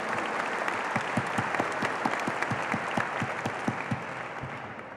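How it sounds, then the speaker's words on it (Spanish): An audience applauds at a Spanish-language talk show taping, a dense steady wash of clapping hands sustained for several seconds at moderate volume. "un aplauso para ellos"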